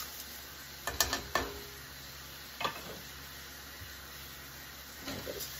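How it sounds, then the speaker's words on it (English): Oats with onions, mushrooms and garlic are stirred in a pan, giving a few faint scraping and clattering spoon strokes over a quiet background, with no talking. "Stir them around so they start to brown a little bit."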